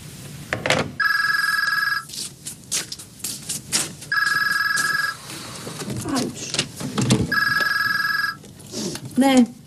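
An old-style telephone bell rings in three long bursts in an office, loud and close, separated by pauses with people talking between the rings.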